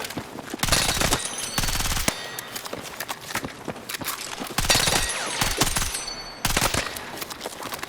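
Loud, close automatic gunfire from an assault rifle with heavy recoil in the shooter game Battlefield 6, played in long sustained bursts broken by short pauses, with no talking.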